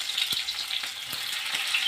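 Oil sizzles in a kadai (wok) with a steady close hiss, broken by small scattered pops and crackles.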